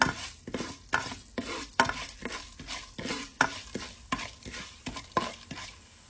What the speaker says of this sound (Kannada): 1 ಟೀ ಸ್ಪೂನ್ ಕಡಲೆಬೇಳೆ, ಆಮೇಲೆ 1 ಟೀ ಸ್ಪೂನ್ ಧನಿಯಾ ಕಾಳು. ಸೊ ಇದನ್ನೆಲ್ಲ ಸ್ವಲ್ಪ ಚೆನ್ನಾಗಿ ಫ್ರೈ ಮಾಡ್ಕೊಳ್ಳೋಣ